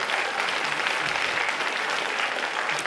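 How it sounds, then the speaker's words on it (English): A crowd claps steadily and densely throughout, a continuous wash of applause heard up close with no voices standing out. "I think you should give yourselves a round of applause."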